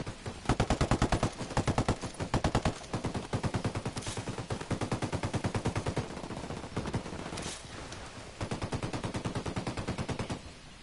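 A squad's gunfire in the Ghost Recon Wildlands video game rattles out in repeated rapid automatic bursts that cut off briefly and resume. The shots are fairly quiet overall, with no talking over them.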